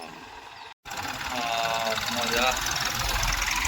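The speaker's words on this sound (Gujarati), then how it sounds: "હો ભાઈ ટ્રેક્ટર રમતું જાય" A tractor engine runs steadily during field sowing season, a continuous mechanical drone that swells slightly louder after a brief dropout near the start, with someone talking over it.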